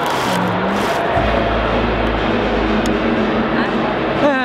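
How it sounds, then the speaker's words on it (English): A small toy with a tiny gas pedal gives off a steady low electronic engine-rev drone at a busy toy and game fair, heard under crowd noise and nearby chatter for most of the clip. "It does have a little tiny gas pedal on here. So when you start your operation in the idle, you can rev it up."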